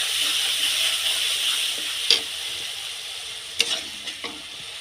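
Spice paste of chili powder and a little water frying hard in a pan, a close, continuous hissing sizzle broken by a few scraping strokes of a spoon stirring it, with no voices.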